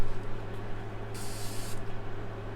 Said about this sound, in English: It's just a really nice facial spray.